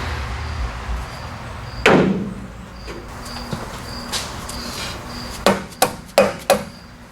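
Several sharp hammer blows knocking off the engine front cover of a 1965 Buick Skylark GS 455 big block, one isolated strike then a quick cluster of four near the end, over faint background hum.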